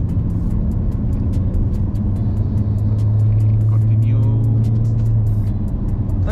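Engine and tyre noise from a 2022 Honda Civic FE while driving, a steady loud low rumble with road roar and a faint high whine, continuous throughout with some talk mixed in.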